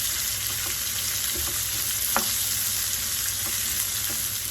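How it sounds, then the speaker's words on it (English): Almonds and dry dates sauté in a pan for sheer khurma, producing a steady close sizzle with a few light stirring clicks and taps over a constant hiss, without speech. "almonds, and dry dates, and saute them as well"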